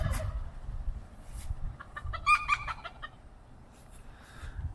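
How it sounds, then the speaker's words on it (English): A rooster on a farm crows once in a clear, mid-distance call, set against quiet rustling and low background rumble. "I'm squaring up with that rooster right there."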